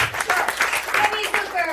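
Audience applause at a live storytelling game show, a short burst of clapping heard beneath a talking voice.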